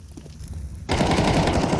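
Counter-Strike 2 gunfire during a tournament match, starting with faint ambient game sound before a sudden, loud, dense burst of continuous automatic fire that fills the rest of the moment.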